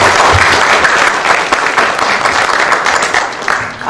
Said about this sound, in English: One more round of applause for Harinder.